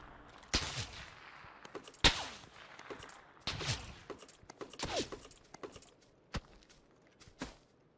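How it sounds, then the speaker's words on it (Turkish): Gunfire in the video game PUBG, a handful of sharp, separated shots ringing out at irregular intervals, some louder cracks and some fainter distant reports, with soft rustling movement between them. "Çok uzaktan silah çıkıyor ya."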